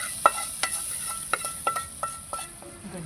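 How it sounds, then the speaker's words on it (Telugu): Hot tempering is stirred into boiling dal with raw mango in a clay pot, making a quiet sizzle with scattered sharp crackles and pops spaced irregularly throughout, with no voices. "ఇప్పుడు ఇది పోపు ఇందులో వేసేసుకుందాము."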